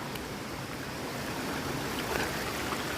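Water rushes down a waterfall in the Kolli Hills as a steady, dense broadband roar, constant and fairly close, with no voices.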